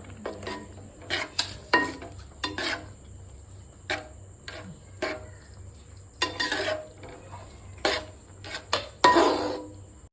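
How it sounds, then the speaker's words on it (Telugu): Carrot halwa being stirred with a spoon in a pan after sugar is added, a series of short scraping, clinking strokes against the metal in an irregular rhythm, close and fairly clear with no talking. "చక్కెర పోసుకున్న తర్వాత ఇలా నీట్గా కలుపుకోవాలన్నమాట."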